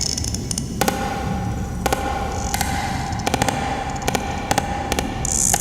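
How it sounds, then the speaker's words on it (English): A sperm whale's echolocation clicks sound as loud, sharp broadband clicks fired in an irregular, rapid series over a steady rushing underwater background. "Rapid-fire clicks hammer through the darkness like underwater gunfire"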